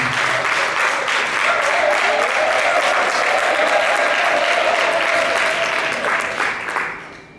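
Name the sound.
audience applause in a hall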